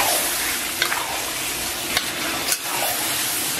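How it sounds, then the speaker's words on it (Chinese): Pork intestines stir-fried with chili powder in a hot wok, a steady loud sizzle with a few sharp scraping stir strokes from the spatula, close up with no voices. "咱们把肥肠下到锅中，接下来给它简单煸炒一下"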